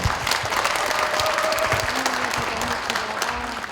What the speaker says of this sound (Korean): 축사를 해주신 도정원 의원님께 다시 한번 큰 박수 부탁드리겠습니다